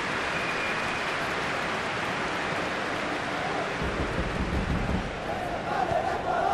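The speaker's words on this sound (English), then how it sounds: "at least the crowd are appreciative of his efforts" A football stadium crowd at an Ecuador vs Brazil World Cup qualifier gives a steady, broad roar of applause and cheering, swelling slightly toward the end.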